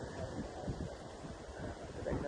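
Strong wind at a nature campsite in the early morning, gusting and buffeting the microphone as a steady broadband rush with a few louder low thumps, and no voices.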